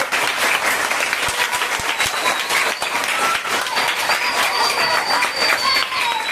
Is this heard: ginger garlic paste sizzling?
no